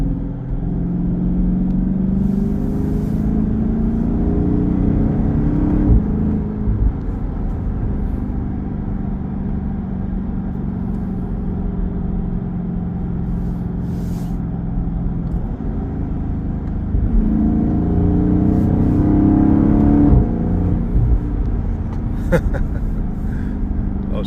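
A 2023 Chrysler 300C with the 6.4 HEMI V8 drones steadily from inside the cabin on a night drive, a low muted exhaust rumble that swells slightly under acceleration around the middle and end.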